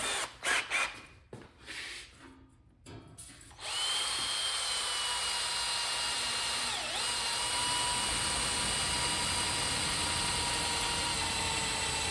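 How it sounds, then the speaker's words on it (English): An electric drill bores slowly through the metal control panel of a Journey arcade cabinet, a steady high whine running for several seconds after a few short, choppy starts, close and fairly loud. "Just drill slow, don't go real fast."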